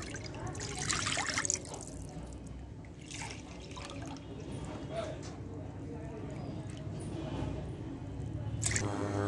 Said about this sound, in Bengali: এখন প্যানে দিয়ে দিচ্ছি পানি